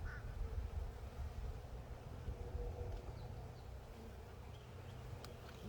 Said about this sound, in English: And there's a lot of bees on here.